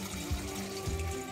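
Water from an aquaponic tilapia tank gushes steadily out through an opened valve into a drain, a continuous close rushing flow with low gurgling pulses.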